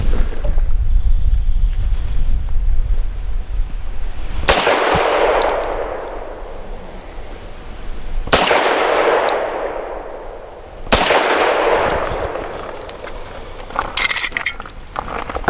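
Three loud, sharp gunshots ring out at uneven intervals from a Tisas Bantam 9mm pistol firing Winchester Super Clean 90 grain zinc-core, lead-free full metal jacket rounds, each crack followed by a brief echoing decay.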